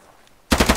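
Suppressing gunfire during a team assault exercise: after a half-second of near silence, a loud automatic burst of rapid, evenly spaced shots erupts close by.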